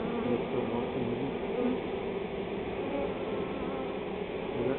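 A swarm of honeybees walks into a new hive box, a dense, steady buzzing hum that stays loud and close throughout with no voices over it.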